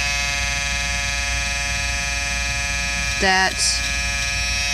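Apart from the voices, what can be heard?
Wahl Peanut electric shaver removing embroidery stitches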